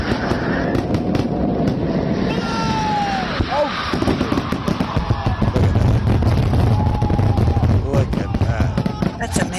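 Fireworks exploding in a dense, continuous barrage of crackles and bangs lasting throughout, loud and close, with faint voices in the background.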